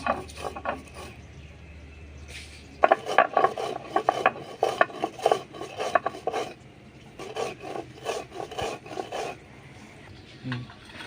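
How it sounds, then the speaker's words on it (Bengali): Spices ground by hand on a traditional Bengali shil nora grinding stone, giving repeated scraping, rubbing strokes in uneven bursts, fairly close, with brief pauses between runs. "আমি শিল নোড়াতে গুঁড়ো করে নিচ্ছি"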